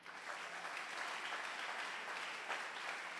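A church congregation applauding together, with a dense, sustained clapping that fills the whole stretch, heard at a distance and fairly quiet, with no speech over it.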